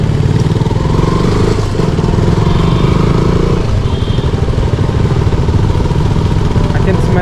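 A motorcycle engine runs close and loud with a steady, rough mechanical drone, on a day trip through the hills near Mullayanagiri in Chikkamagaluru.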